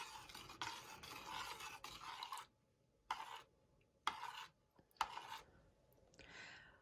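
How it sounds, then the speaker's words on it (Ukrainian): Milk jelly and sour cream being stirred in a bowl, giving soft scraping, rasping strokes in bursts with brief pauses between, close and moderately quiet. "Знову добре все вимішую, щоб сметанка розчинилася"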